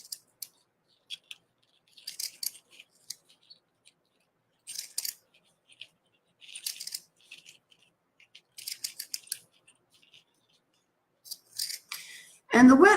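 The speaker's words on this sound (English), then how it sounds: "I'm going to fold it in half and simply cut both lengths all the way" Scissors snip through folded craft material for a wreath in short bursts of crisp cuts separated by pauses, close and clear, with a louder rustle at the end.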